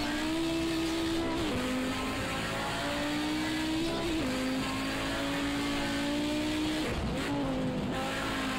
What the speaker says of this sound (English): what a drift recovery by the AI there